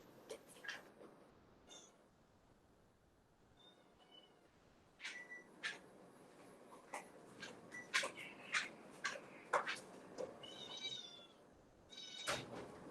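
Several cats meow repeatedly at close range, short overlapping cries coming in bursts over a steady low background hum, getting busier toward the end.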